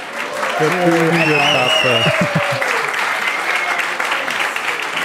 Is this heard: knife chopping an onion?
no